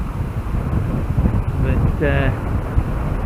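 Strong wind roars and buffets the microphone throughout a cycle ride on the Trans Pennine Trail, with a brief spoken word partway through.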